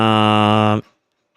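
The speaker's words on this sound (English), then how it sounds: "Is that my phone? That's my alarm." A phone alarm sounds: a loud, steady electronic tone rich in buzzy harmonics rings on continuously, then cuts off abruptly, leaving near silence.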